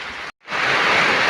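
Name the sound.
heavy rain falling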